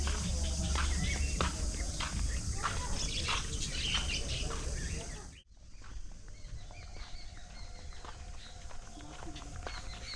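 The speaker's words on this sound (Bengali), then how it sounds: "এই ভেতরটা একদম পাখি ভর্তি।" Many birds in an aviary chirp and tweet together in a dense, continuous chorus, briefly cut off halfway before resuming, with people talking faintly underneath.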